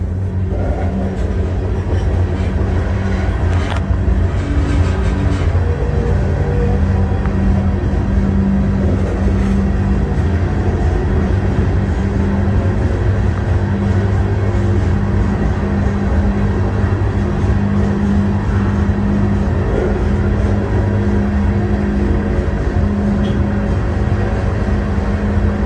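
Tires rumble continuously over a ground-down road surface on a rainy drive, giving a loud, steady drone with a gritty texture that runs unbroken the whole time.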